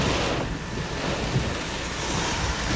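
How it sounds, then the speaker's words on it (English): Strong storm wind of about 60 to 70 mph during a Midwest tornado threat, a constant roaring rush with heavy buffeting against the microphone, loud and steady with no talking. "this is a good, probably 60, 70 mile per hour wind here. Pretty strong."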